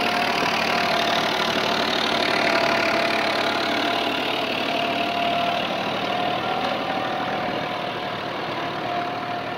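A New Holland TD65 tractor engine pulls uphill out of a furrow in four-wheel drive, giving a steady, loud, continuous drone with a faint knocking texture throughout and no talk.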